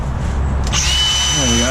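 A battery angle grinder with a small, weak battery whines as it starts and then spins down, its pitch dropping toward the end, loud and close beside a steady low rumble.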